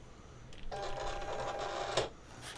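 A Silhouette cutting machine loads its cutting mat with a faint motor whir lasting over a second and a click near the end, with quiet room tone around it.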